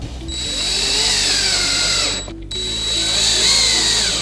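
A power drill drives small 1/2-inch screws into a cabinet bracket while assembling a NorthPoint 3-drawer base cabinet, giving a loud, steady whine that runs for about two seconds, dips briefly, then resumes.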